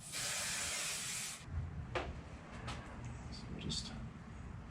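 A steady spray of aerosol glue hisses loudly for over a second, then stops; soft handling noises and faint clicks follow.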